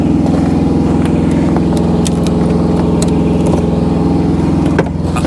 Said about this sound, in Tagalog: Start ko lang yung truck.